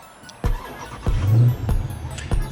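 A Dodge Challenger Scat Pack 392 cranks and fires up close by, sharp starter clicks followed by a loud throaty V8 roar that swells, then settles into a rumbling idle with a few blips.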